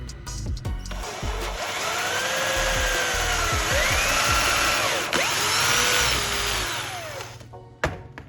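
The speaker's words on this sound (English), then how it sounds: "Next, I'll prepare a small piece of wood and drill a small hole at one end." A small power drill whines steadily, its pitch rising and falling as it bores a small hole in a piece of wood, with a few clicks at start and finish.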